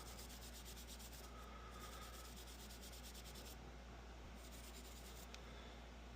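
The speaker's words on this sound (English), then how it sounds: "Our brass brush, scrub her off." A brass brush scrubs a grooved flame sensor on a Trane furnace, a faint, steady rhythmic rubbing and scratching heard close up for several seconds.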